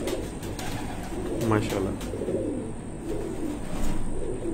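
Shy, fast flying pigeons coo in low, throaty bursts under a voice, with steady background noise throughout.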